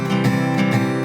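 An acoustic guitar chord is strummed with the fingers held firmly down, giving a sustained, full ringing sound with soft pulses of strumming and no lift between them.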